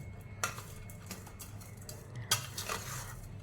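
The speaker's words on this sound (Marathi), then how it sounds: "हे सगळं मी हलवून घेणार आहे, मिक्स करणार आहे" Soaked poha mixed with turmeric, salt, sugar and coriander leaves is stirred in a bowl, with soft scraping and a couple of sharper spoon clinks against the dish, quiet and close.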